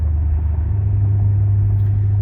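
Lincoln Town Car on the Panther platform with 3.73 rear gears cruising on the highway, a steady low engine and road drone with constant tire rumble inside the cabin.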